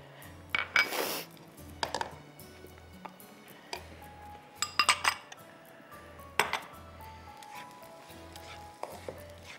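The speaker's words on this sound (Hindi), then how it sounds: "अब मैं इसमें डालूंगी कैप्सिकम एक फाइनली चॉप्ड और प्याज एक फाइनली चॉप्ड" Finely chopped capsicum and onion tipped into a pan on a cooking show set, with a few clinks and clatters of utensils against the pan over a quiet background hum and no voices.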